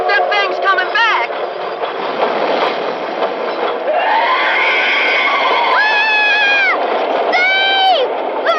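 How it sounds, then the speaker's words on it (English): A train approaches in a dramatized radio drama, a continuous loud rumble with rising and falling whistle-like tones mixed under urgent overlapping voices. "The train's almost here."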